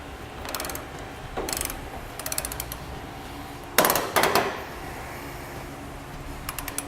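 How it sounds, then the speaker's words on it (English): Ratcheting teeth on a flange nut tightened onto a bracket while installing a Curt Double Lock flip-and-store gooseneck hitch, heard as a few faint bursts of quick mechanical clicks over low background noise. "That's the teeth on the flange nut tightening down onto the bracket."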